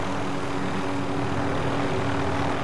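A helicopter in Call of Duty Warzone makes a loud, continuous rotor and engine roar that stays steady for the whole stretch.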